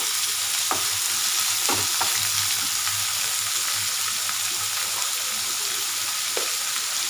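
Two medium onions fry for lemon rice in hot oil, a steady bright sizzle broken by occasional stirring scrapes and clicks, close and continuous, with no talk.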